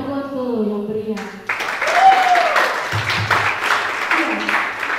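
An audience claps for the first vlog contest participant, a mathematics study program student, at a school event marking Hardiknas 2024 (Indonesian National Education Day). The steady, loud clapping runs the whole stretch over music and voices.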